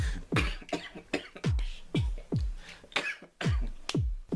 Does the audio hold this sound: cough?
yes